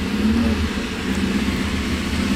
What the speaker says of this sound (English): So Sandra Tomlin has fired the car. I hear V8 rumbling away.